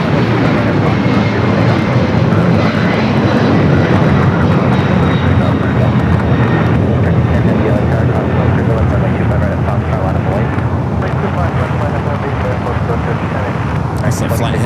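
A converted Boeing 767 departing LAX for Cincinnati roars loudly and steadily throughout, a broad continuous jet rumble with no break, close and dominant.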